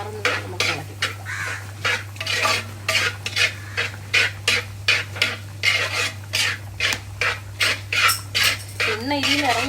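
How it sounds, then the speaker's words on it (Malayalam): Coriander powder masala is stirred around a pan with a utensil, making a steady run of close, regular scraping strokes about twice a second, with light metallic clinks against a constant low hum. "ഇതെല്ലാം നല്ല പച്ചമണം മാറുന്നത് നമുക്ക് ഇളക്കി കൊടുക്കാം"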